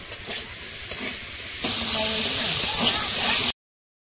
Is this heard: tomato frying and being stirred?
yes